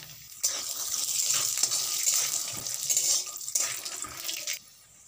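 Peanuts fry in oil in a wok with a bright sizzle and light stirring scrapes that go on for several seconds and then drop away quickly near the end.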